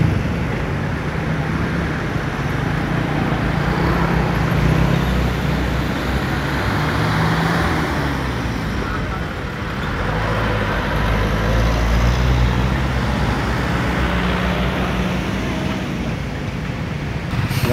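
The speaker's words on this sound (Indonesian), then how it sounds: "Nah, ini ada kemacetan, mulai macet." Steady roadway rumble from a nighttime traffic jam beside the Kali Brantas bridge construction at Ploso, with cars and trucks idling and crawling; a continuous broad wash of engine and tyre noise with slow swells, no voices.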